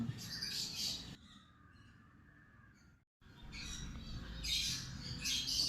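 Pet parrots in a breeding setup, including conure pairs and a semi-adult blue Fischer's pied lovebird pair, give loud, harsh squawks and chirps. Bursts open the clip and return after a quiet stretch with a brief silence.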